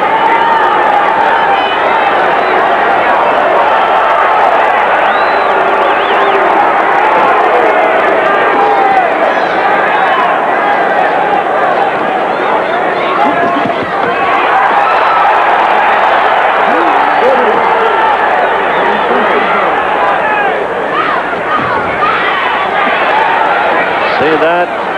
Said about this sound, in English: This crowd goes crazy if there's even an appearance of connecting.